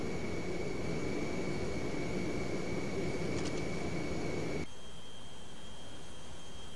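Simulated Boeing 727-100 jet making a quick flyby in the FsPassengers flight simulator: a steady whooshing engine roar with a high whine that drops abruptly to a quieter hum near the end.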